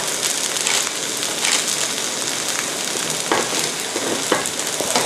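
Eggs sizzling and frying in a hot wok while a spatula scrapes and breaks them up, while cooking pad thai with river prawns; a steady loud crackle with scraping strokes throughout.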